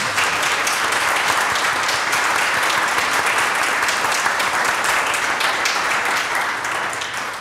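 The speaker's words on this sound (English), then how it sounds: "Round of applause, thank you very much." A large audience applauds debate panellists at a construction-industry EU referendum event, a dense, steady wash of clapping that stays loud for several seconds before easing slightly at the end.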